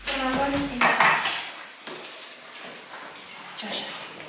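Metal dog food bowls clatter and clink together in a quick burst at an animal shelter, followed by lighter scraping and knocks, with a voice briefly audible at the start.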